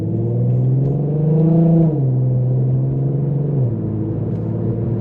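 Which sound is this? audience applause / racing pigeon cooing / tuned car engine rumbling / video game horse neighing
tuned car engine rumbling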